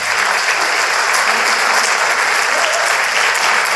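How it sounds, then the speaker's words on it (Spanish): An audience at an open lecture applauds the technical crew in the recording booth, a dense, loud, continuous wash of clapping that holds steady throughout. "un aplauso para ellos"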